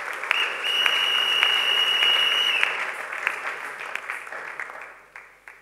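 A church congregation at a Sunday service breaks into sustained applause that holds steady for a few seconds with a thin high tone ringing over it, then thins out into scattered claps.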